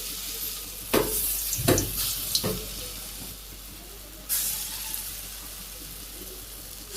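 Fritters of rice flour, onion and chili fry in hot oil in a kadai, a soft steady sizzle broken by a few sharp crackling bursts and scraping sounds.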